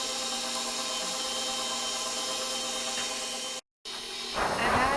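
A stand mixer whisks lemon ricotta cheesecake batter on a low speed, giving a steady loud motor whir with a brief cut-out near the end, then rougher scraping whisk noise as it starts again.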